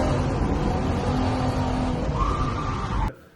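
Budget drift car being driven, a loud steady engine roar with tire noise held for about three seconds, then cutting off abruptly.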